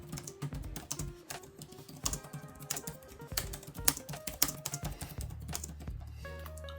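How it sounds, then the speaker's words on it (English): Rapid, steady typing on a gaming laptop keyboard with crisp clicking keystrokes, close and continuous, ending with a few low thuds. "let's do a little typing test and see how good that keyboard really is"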